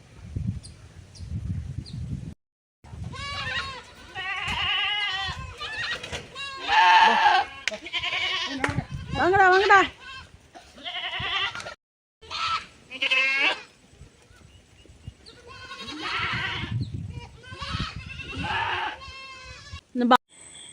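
Goats bleating repeatedly at a rural farm in the evening, several wavering calls near and clear, with people talking between and over them.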